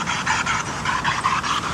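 A little dog pants close by in quick, steady rhythmic breaths that run throughout, with no talking.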